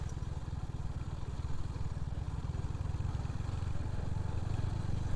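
A Royal Enfield Hunter 350 motorcycle runs on a test ride, its single-cylinder engine giving a steady, fast low thump that rises slightly in revs. The engine is close and moderately loud, with no talking.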